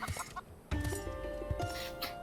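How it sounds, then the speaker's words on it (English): A chicken in the video game Final Fantasy XIV clucks in quick short bursts, then squawks and flutters with several sharp clucks over game music, close and clear. "And away goes the chicken"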